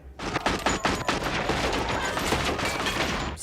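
Rapid volleys of gunshots from a shootout in the 1992 crime film Reservoir Dogs, loud crackling bursts that run almost unbroken for a few seconds with no talking.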